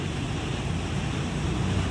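Flooded river water after a dam release, rushing in waves under a bridge: a continuous loud roar and wash with heavy low rumble and no break.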